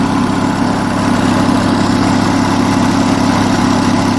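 A large Onan US military generator engine runs at a steady, even idle of about 1800 RPM, a loud continuous low drone with constant vibration and no variation in speed.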